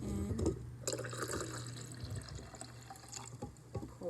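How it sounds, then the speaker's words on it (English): Strawberry kiwi juice pours into a measuring cup for a sangria mix, a soft liquid gurgle and trickle with faint drips, close by and fairly quiet, with no talking. "you're going to pour a half of cup of the strawberry kiwi into your mix"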